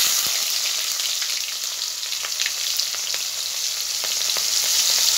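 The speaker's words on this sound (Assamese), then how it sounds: "ভালদৰে ৰঙচুৱা কৰি পিয়াজখিনি" Chopped onions fry in hot oil with a pinch of panch phoron in a pan. They give a steady, close sizzle with faint crackles and small pops throughout, and no talking is heard.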